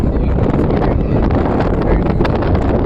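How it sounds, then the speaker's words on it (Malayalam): Strong wind roars continuously across the microphone at the Taj Mahal, a dense, steady rumble with gusty buffeting and no pauses. "ഭയങ്കര കാറ്റാണ് ഇവിടെ അടിച്ചുകൊണ്ടിരിക്കുന്നത്."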